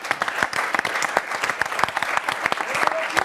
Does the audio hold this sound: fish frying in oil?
no